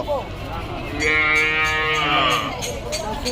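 Cattle low loudly at a livestock market where calves are being sold, one long close moo rising and falling over about a second and a half amid faint background voices.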